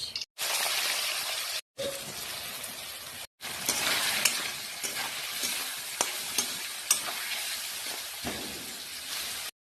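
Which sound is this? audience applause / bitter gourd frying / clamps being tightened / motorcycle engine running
bitter gourd frying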